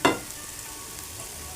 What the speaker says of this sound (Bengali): টমেটো আর পেঁয়াজ একটু ভাজা ভাজা করে নিচ্ছি